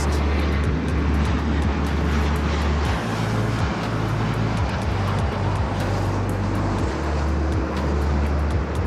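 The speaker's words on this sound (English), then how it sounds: "Here's that private Gulfstream up next." A private Gulfstream jet roars steadily at LAX, a loud continuous engine rumble and whine that holds throughout without break, heard from a nearby vantage point.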